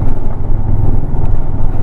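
Motorcycles on a rural road in the Philippines: a steady, close engine drone rumbling continuously, with no talk over it.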